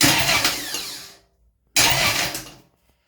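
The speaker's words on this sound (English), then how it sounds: "So let's hit that button and see what happens." A new 12 volt starter cranks the engine of a Cletrac HG-68 crawler tractor in two loud, close bursts of roughly a second each, separated by a short silent pause.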